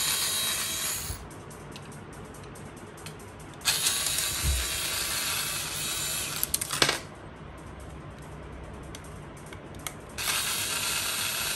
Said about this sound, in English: You have to remove those screws.